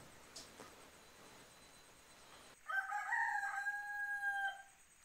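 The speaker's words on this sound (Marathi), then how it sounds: "पहाटेची कोंबड्याची छान अशी बांग." A rooster crows once at dawn in a Konkan village near Ratnagiri, a clear drawn-out cock-a-doodle-doo rising out of near silence at moderate distance, fading after about two seconds.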